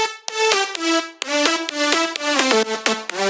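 Several synth lead lines layered together and squashed with heavy OTT multiband compression play a bright, buzzy melody of stepping sustained notes, loud and dense, with no voices.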